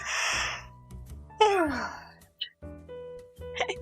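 A long breathy yawn with a falling, moaning voice, followed by soft sighs and small vocal sounds.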